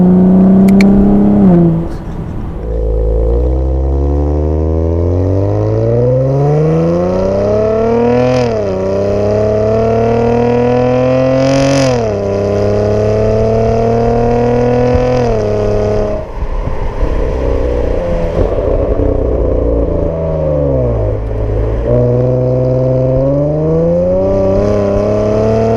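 A 2019 Chevrolet Camaro 1LT RS pulls hard in first gear, its engine note rising steadily in loud, continuous sweeps with brief dips at each gear change, close and dominant throughout with no talking.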